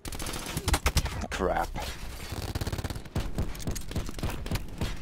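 Gunfire from a Call of Duty Black Ops 4 match, rapid bursts of shots crackling close and loud, with a player talking over the shooting throughout.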